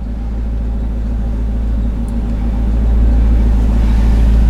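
An SVT Lightning truck engine runs with a steady, deep rumble that swells slightly louder near the end, close and continuous, with no voices.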